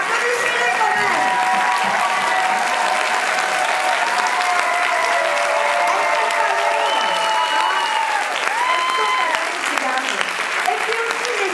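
Sustained crowd applause at a musical show, loud and continuous clapping lasting several seconds, with voices calling out over it.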